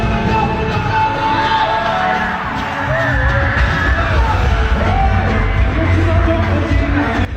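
A dense concert crowd roars and yells for two artists, a loud, continuous wash of cheering and whoops with no break.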